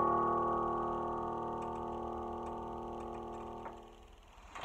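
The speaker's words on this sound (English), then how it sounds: "the default sound when you first switch the piano on of the Berlin Grand, being the Bechstein D282 grand piano" A Casio GP400 digital piano sounds its Berlin Grand voice, a Bechstein D282 grand piano sample, with sustained chord tones ringing and slowly decaying, close and clear, no talking.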